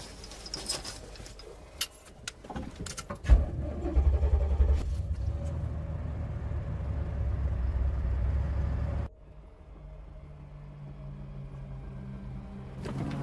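A car pulls away with a rising engine rumble that holds steady for several seconds, then drops off sharply to a quieter hum. Scattered knocks and rustles come before it.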